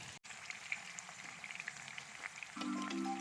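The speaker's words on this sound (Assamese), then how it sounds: "এইখিনি মই ল' টু মিডিয়াম ফ্লেমত ভাজিম" Coated chicken pieces fry in hot oil over a low to medium flame, a soft, steady sizzle heard up close with no talking.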